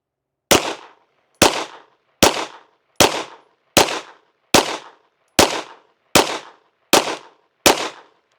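Ten sharp gunshots from a SAR9 pistol firing Federal Champion 115 grain ammo at a range, evenly spaced in a steady rhythm with short decaying echoes between reports, loud and close.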